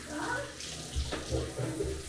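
Water pours steadily into a bathtub in a new home, a close, continuous gushing and splashing at low level with no talking over it.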